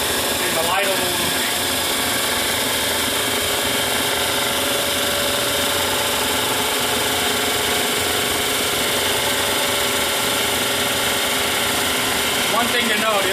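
An SCBA compressor runs continuously while filling a breathing-air cylinder, a steady loud mechanical drone with a constant motor whine and no letup from start to finish.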